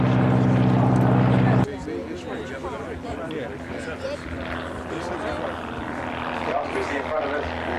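A light aircraft flies slowly past at an air show with flaps down at a high angle of attack, a loud steady engine drone that drops suddenly, then continues as a softer rumble under outdoor ambience.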